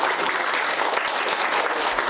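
An audience at a community residents' forum in Deokjeong breaks into loud, sustained applause, a dense wash of many hands clapping together with no pause.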